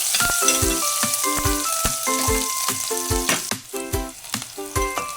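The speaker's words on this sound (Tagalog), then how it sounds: "magigisa muna ako ng bawang at saka sibuyas" Garlic and onion sauté in a little oil in a pan for Filipino ginisang ampalaya, a close, lively sizzle punctuated by regular clacking strokes of a utensil stirring against the pan.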